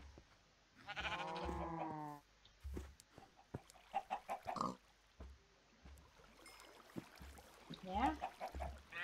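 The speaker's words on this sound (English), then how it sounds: "There's the sheep." Sheep in the Minecraft video game bleat with a wavering, stretched call near the start, joined by other farm-animal noises and scattered clicks, with a second rising call near the end.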